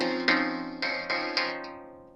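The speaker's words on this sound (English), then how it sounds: "using those peaks and putting resonator on it and making cool chord" Vinyl crackle peaks fed through resonators tuned to a chord, each click ringing out as a bright, pitched chordal tone; four or five struck hits decay into a sustained, echoing harmonic wash.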